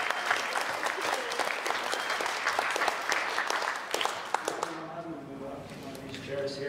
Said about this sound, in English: Please give a huge round of applause for Simon,